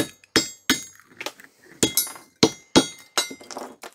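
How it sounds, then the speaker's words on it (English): Ceramic body of an old HRC fuse being struck and broken with a tool: a rapid series of sharp, close cracks and clinks, about a dozen irregular hits with brief gritty crumbling between them. "So the ceramic's easy to break through."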